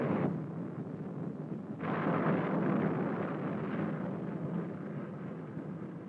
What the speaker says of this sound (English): the free world's most powerful booster, the Titan IIIC, is successfully tested